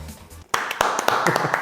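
Hands clapping to trigger a viral Chinese gadget: after a brief electronic tone, several sharp, close claps land in an uneven rhythm, some with faint beeps ringing alongside.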